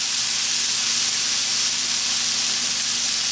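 Minced garlic heats in a pan for corned beef pasties, giving off a steady, close, even sizzle and hiss with no talking over it.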